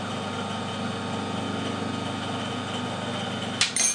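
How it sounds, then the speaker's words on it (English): A metal lathe runs steadily while cutting an internal left-hand ACME thread, a continuous mechanical hum with a low rhythmic drone, then a sharp metallic clunk near the end as the machine changes. "reverse the lathe again"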